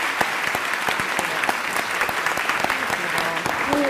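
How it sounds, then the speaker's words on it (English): Loud, dense audience applause at a leadership discussion event, a continuous roar of many hands clapping throughout, with a voice briefly heard over it near the end. "Ladies and gentlemen, let's give a big round of applause for Ms."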